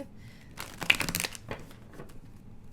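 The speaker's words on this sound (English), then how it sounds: "I'm sorry it's hard for me to shuffle." A large deck of tarot cards being shuffled: a short burst of crisp riffling and crinkling in the middle, then a few softer rustles, fairly close and with no talk.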